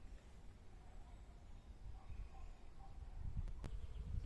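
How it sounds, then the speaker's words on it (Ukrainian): A faint, steady buzz of bees hums throughout, low and diffuse, with a louder thump near the end. "У нас так бджоли гудуть."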